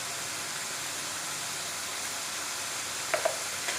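Beef karahi meat frying in a wok with garam masala, giving a steady, even sizzle with a couple of faint clinks near the end.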